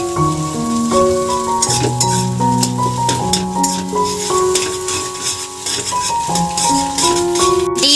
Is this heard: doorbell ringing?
no